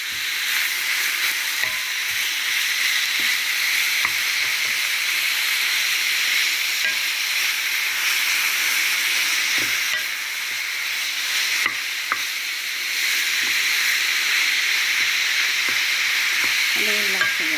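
Ground meat for sambosa sizzles and hisses steadily in a pan, with occasional soft scrapes and knocks of a spoon as it is stirred; continuous, close and fairly loud.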